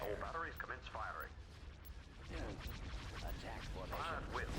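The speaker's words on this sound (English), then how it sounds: "batteries commence firing" Starship batteries fire during a Star Wars space battle in a strategy game, a steady barrage of blasts and booming shots under overlapping voice callouts.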